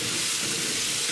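Spices sizzle softly in a pan with tadka for a ground beef keema on medium flame, a short, even, faint frying hiss with no talking.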